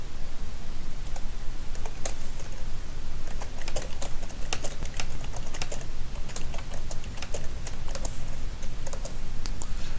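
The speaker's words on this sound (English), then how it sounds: "So I'm going to just type in a title real quick and a description." Rapid, steady typing on a computer keyboard fills ten seconds with dense clusters of keystrokes over a constant background hiss, close up, with no speech.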